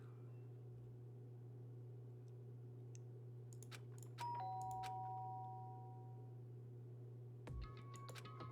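A doorbell chimes in the Danganronpa: Trigger Happy Havoc video game: a sustained electronic ding rings out and fades, then a second chime follows a few seconds later over a steady low background hum.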